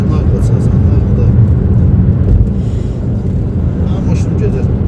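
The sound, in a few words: car passing by on the road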